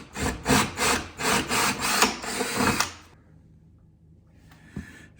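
A 1/2 inch bit boring into wood after a pilot hole, giving loud, close grinding bursts in a pulsing rhythm for about three seconds before cutting off into near quiet.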